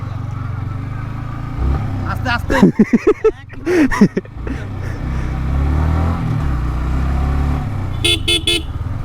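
A Yamaha FZs V1 motorcycle runs with a steady low engine drone as it is ridden, with a short burst of voices in the middle and a few sharp high horn-like toots near the end.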